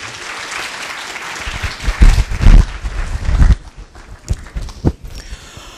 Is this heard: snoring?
no